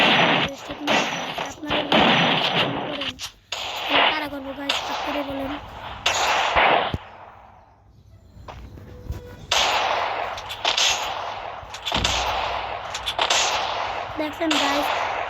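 Gunshots in the Free Fire video game, repeated loud sharp bursts of fire in clusters with a brief quiet lull midway, while a person talks over the action throughout.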